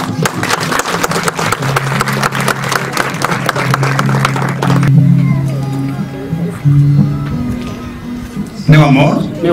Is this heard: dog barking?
no